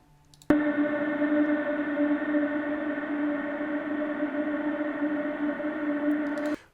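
A sustained harmonic tone with infinite reverb begins abruptly, holds as a steady, layered drone without decay for about six seconds, then cuts off.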